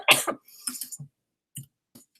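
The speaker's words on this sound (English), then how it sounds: "coughing like this is terrible" A person coughing in several harsh, close bursts: a strong double cough at first, then shorter scattered coughs and throat clearing separated by silence.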